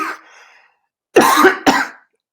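Two sharp coughs from a person, close and loud, coming after a quiet stretch with a faint breathy sound.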